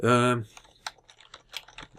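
Quick, irregular clicks of keyboard keys being typed in Video Game Critic Simulator, close and fairly quiet, following a short voiced sound at the start.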